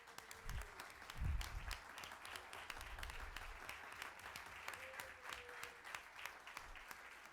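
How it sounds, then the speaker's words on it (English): Faint, distant applause for dignitaries at the City of Peekskill inauguration ceremony, with scattered crisp claps over a low room rumble and a louder thump early on. "Let's give them a round of applause."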